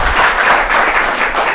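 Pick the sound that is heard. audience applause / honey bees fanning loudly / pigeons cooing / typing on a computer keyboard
audience applause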